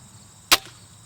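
A single muffled thump-snap of a crossbow firing, short and fairly soft, with the string noise damped, then quiet.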